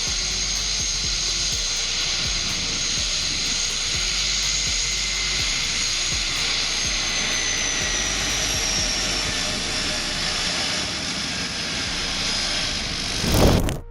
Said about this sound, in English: Sliding into number 6, the Cessna 425 Corsair, later renamed the Conquest 1